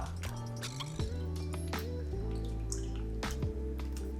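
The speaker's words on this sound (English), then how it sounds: "I'm just gonna drain this juice out" Juice from canned pineapple rings drains into a container as a series of close drips and small splashes, with occasional light clinks and a low rumble underneath.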